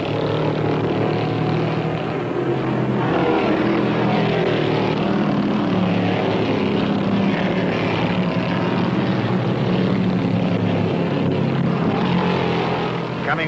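Engine roar from a pack of 1974 NASCAR Winston Cup stock cars at the Rebel 450, including a Purolator Mercury and a Matador, all wound up at race speed. It is a loud, continuous drone that holds steady throughout.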